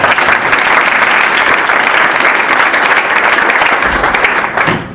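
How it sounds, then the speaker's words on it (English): A lecture hall audience gives a warm round of applause for speaker Mike Kessler before a marketing talk, a dense, steady wash of many hands clapping that holds loud and full for about four seconds before tapering off. "please give Mike Kessler a warm round of applause"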